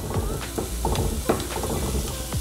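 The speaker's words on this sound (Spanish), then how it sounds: "A mí me encanta cómo empieza a oler la cebolla cuando se está dorando en el aceite." Half a small onion frying and browning in oil for a Veracruz-style fish dish, a steady close sizzle with soft crackles and a few stirring clinks, no talking.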